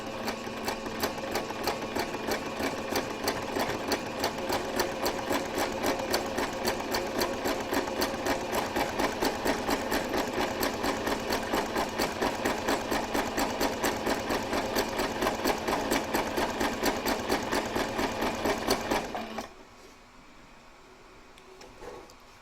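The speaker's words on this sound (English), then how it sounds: "And we're now going to stitch that on." A sewing machine stitches binding onto a quilted table runner, a steady, close, rapid mechanical chatter running continuously for about nineteen seconds before stopping abruptly into quiet room tone.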